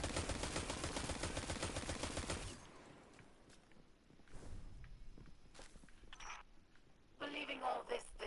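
Rapid bursts from wire rifles in a sci-fi video game rattle loudly for the first couple of seconds, followed by quieter scattered in-game effects and a later burst of noise.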